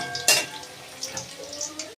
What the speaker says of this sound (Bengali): ওই তেলেই আমি আবার বেগুনটা ভেজে নিচ্ছি।